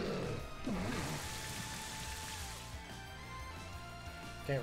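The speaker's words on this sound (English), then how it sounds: "we're gonna set up the Rain Dance" Rain from the Rain Dance move in the Pokémon Scarlet/Violet video game, a steady hiss of falling rain lasting the whole stretch at moderate level, with game music tones running underneath.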